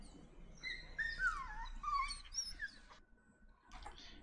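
A reactive dog whines and yips at an approaching dog in rising, squeaky whimpers, a run of excited high-pitched cries, then a brief pause and one more short whine.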